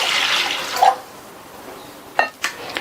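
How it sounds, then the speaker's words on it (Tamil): Water pours into a cooking pan for boiling elephant foot yam, a brief rushing splash at the start that stops abruptly, followed by a few faint clinks and knocks. "இந்த பேன்ல தண்ணி சேர்த்திருக்கேன்."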